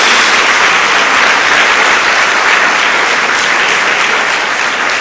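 Church congregation applauding during a worship service, a dense, steady wash of clapping that stays loud and even throughout with no clear speech.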